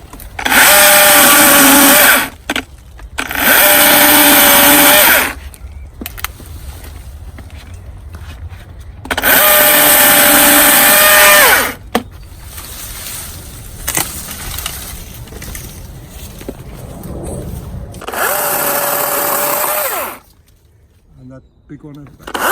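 A chainsaw cuts into a large bonsai tree in four loud bursts of high revving, with quieter gaps between where the saw idles, branches shift and a person moves about.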